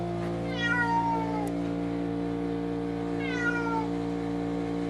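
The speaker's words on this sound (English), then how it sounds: "There's a cat?" A cat meows twice, a few seconds apart, close and fairly clear over a steady tonal hum in the background.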